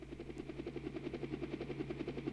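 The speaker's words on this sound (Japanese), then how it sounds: "ヘリコプター" A helicopter in the video game LiEat III gives off a steady, close, moderately loud rotor drone with a regular pulsing chop and a low mechanical hum, heard alone with no talk.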